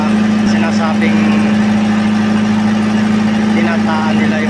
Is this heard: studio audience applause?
no